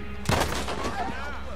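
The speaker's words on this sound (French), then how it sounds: "avec le fusil c'est facile de les tuer, hein" A single loud rifle shot in Red Dead Redemption 2, a sharp crack followed by a short ringing tail, with a voice around it.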